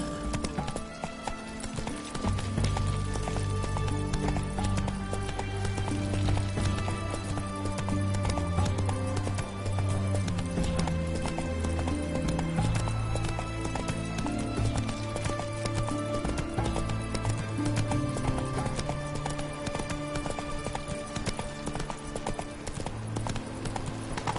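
A horse gallops in The Witcher 3 video game, its steady, rapid hoofbeats running continuously under game music for the whole stretch.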